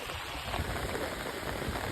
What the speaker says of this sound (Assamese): বতাহো দিছে বৰষুণৰ লগতে লাহে লাহে